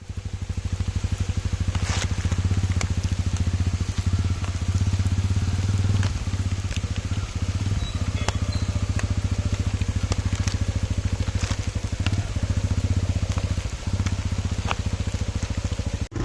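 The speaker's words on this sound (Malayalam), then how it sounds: "ഇങ്ങനെ മഴ കൊണ്ട് ഇങ്ങനെ ടൂ വീലറെ പോകണം കേട്ടോ" Continuous rain pattering and crackling over the low, droning engine of a two-wheeler riding a forest road, with occasional sharp taps, heard up close throughout.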